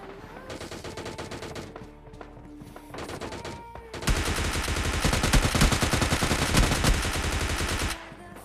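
Bursts of automatic gunfire from a PUBG Mobile Lite match, with sparse shots at first, then a long, dense, loud volley of rapid rounds that cuts off abruptly.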